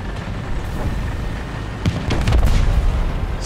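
Tank gunfire in the War Thunder ground battle game, a couple of heavy booms a little apart near the end over low rumbling ambience, moderately loud and slightly distant.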